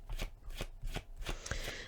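A deck of tarot cards is shuffled by hand close up, a quick series of crisp riffling slaps in an even rhythm, with no talking.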